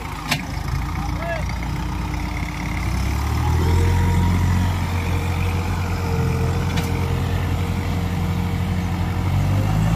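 Holland 5620 tractor engine labouring on a farm track after getting stuck, a steady heavy diesel rumble running throughout with the revs climbing partway through, close and loud.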